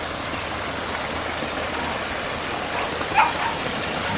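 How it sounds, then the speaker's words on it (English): Water splashes steadily down a small waterfall beside a fenced turtle pond, a continuous close hiss with a brief brighter splash near the end. "Nice waterfalls."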